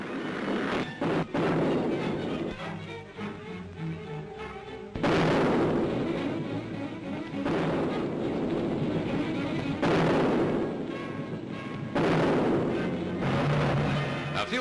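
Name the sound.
artillery fire in the desert, 1941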